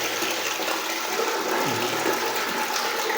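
Water runs steadily from a sink tap in a Tirumala lodging room, a close, continuous hiss and splash that stays even throughout with no talking.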